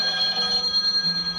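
A telephone rings indoors, a short electronic bell tone with steady high pitches, moderately loud, with no voices.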